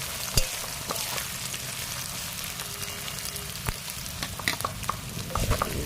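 Chillies and onion fry in a hot pan during a chicken dish: a steady close sizzle with occasional stirring scrapes and clicks, and no talk.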